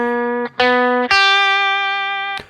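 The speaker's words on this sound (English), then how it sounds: "One more time on that lick. Passing tone, bend up." Electric guitar plays a blues lead lick with a distorted, effected tone: a few clean picked notes including a passing tone, then a long sustained bent note ringing out alone.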